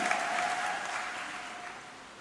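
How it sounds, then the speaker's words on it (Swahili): A church congregation applauds during a sermon, a dense wash of clapping that stays steady and loud before slowly thinning out. "Pigie Bwana makofi mengi"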